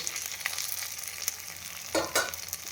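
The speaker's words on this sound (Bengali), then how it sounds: "তো এক এক করে কিন্তু সবগুলো এইভাবে ভেজে নিব, আর মুচমুচে করে তারপর নামাবো।" Battered pumpkin flower fritters deep-fry in oil with a steady, faint crackling sizzle and a few brief louder pops and stirs.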